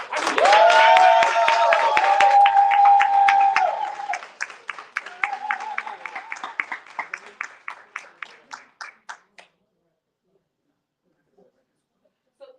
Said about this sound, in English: Can everybody clap up again?